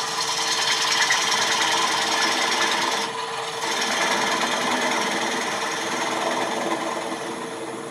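A bowl gouge takes a final pass on a Bradford pear bowl spinning on a wood lathe, giving a loud, continuous scraping hum with a steady motor drone and a brief dip in intensity partway through.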